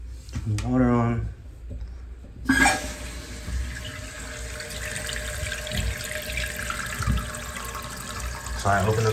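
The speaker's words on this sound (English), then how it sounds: "So just turn the water on." Water rushing into a toilet tank through a fill valve after the supply is turned back on: a steady hiss and gurgle of filling that starts abruptly and continues throughout, preceded by a brief voice.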